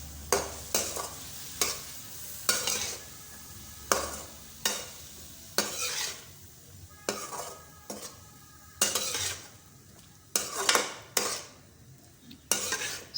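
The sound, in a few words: stirring spices and ingredients with a spoon in a pan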